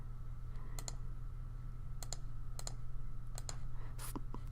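Typing on a computer keyboard in short bursts of crisp clicks, a few keystrokes at a time separated by pauses, heard close over a low steady electrical hum.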